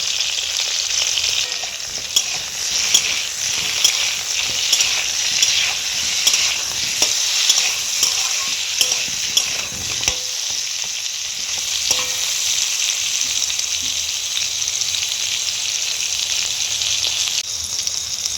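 Pointed gourd (potol) sizzles steadily as it fries in hot oil, with occasional stirring clinks, heard close and continuous without talk.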